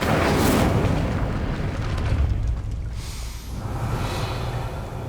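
Incendio fire spell cast in the Hogwarts Legacy video game, a loud roaring burst of flame that whooshes and rumbles for a few seconds, then swells briefly again alone without talk.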